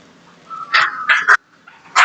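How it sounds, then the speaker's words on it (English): Two puppies scuffle with short yips, whimpers and small barks in quick bursts, close and fairly loud, with no talking. "The puppies fighting."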